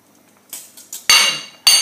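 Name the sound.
cooking pot being handled and set aside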